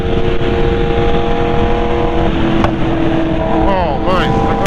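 A BMW motorcycle being ridden, its engine droning steadily and loudly with wind noise, the pitch shifting as it revs toward the end.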